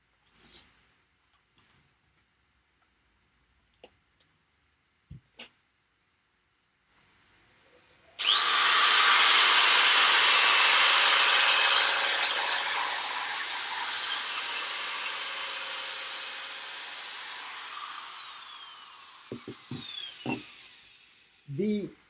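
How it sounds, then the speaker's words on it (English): An angle grinder fitted with 180-grit sandpaper, limited to 1400 RPM, sands wood with a loud, steady high whine for about ten seconds. It then winds down, with scattered knocks and handling noises before and after. "The advantage of sanding with the grinder is that you always sand, or more at least, in the direction of the grain."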